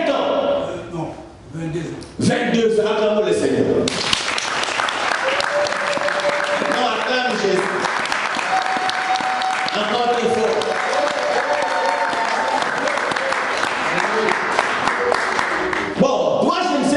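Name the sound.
congregation applauding in church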